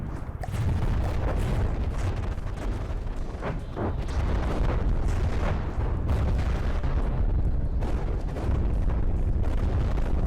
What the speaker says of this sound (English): There's a lot of AA fire.